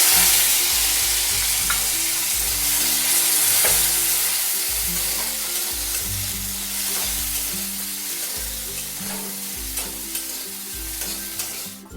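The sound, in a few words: vegetables added to spice paste, frying and sizzling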